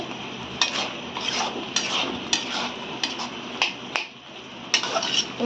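Fish is mixed with pepper leaves and lemon leaves in a pan: a spatula clicks and scrapes in irregular sharp taps, over a low frying sizzle throughout.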